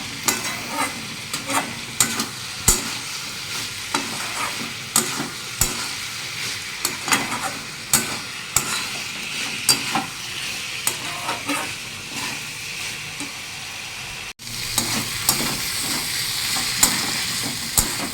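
Spicy ash gourd curry with a fish head added sizzles steadily in a pan, with repeated close spatula scrapes and stirring strokes throughout and a brief dropout near the end.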